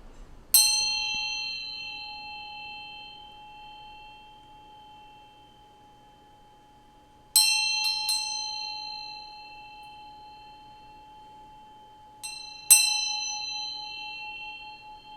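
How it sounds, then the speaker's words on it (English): A bell is struck three times, each ring a bright metallic clang with a long, slowly fading shimmer, the second strike followed by a quick light double tap, with no voices. "we're going to ring this bell a few times"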